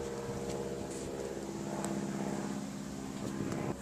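A low-flying aircraft passing over at a weekend airshow, a steady droning engine and propeller hum holding loud and close throughout.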